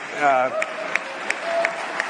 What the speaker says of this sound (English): everybody there cheering